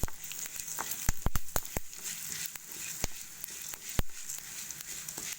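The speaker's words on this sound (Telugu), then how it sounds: "ధనియాలు వేసుకున్నాక మంచిగా కలుపుకోవాలి" Coriander seeds roast in a pan, giving a faint dry sizzle. Sharp scraping clicks come in quick bursts as they are stirred, and no voices are heard.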